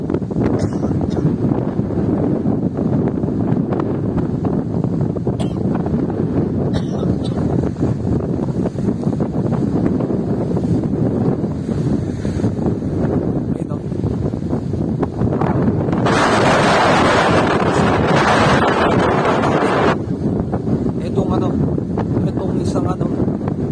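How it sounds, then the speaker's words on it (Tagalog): Strong wind at the Ilocos Norte windmills buffets the microphone in a loud, continuous roar and rumble that swells even harder partway through, while a voice speaks under it. "napakalakas ng hangin"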